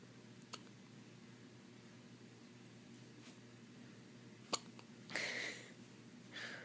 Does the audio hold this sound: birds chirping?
no